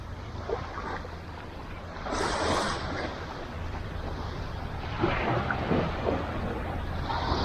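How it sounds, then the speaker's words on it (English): Waves at the far end of Ao Nang Beach in Krabi, Thailand, washing in as a soft, faint, steady surf with gentle swells of hiss and a low rumble of wind. "We're at the far end of Ao Nang Beach."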